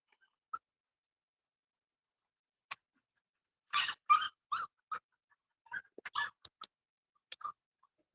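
Dogs out on a yard in the hot sun give scattered short whimpers and yelps, quiet and intermittent with long silent gaps between clusters of sounds.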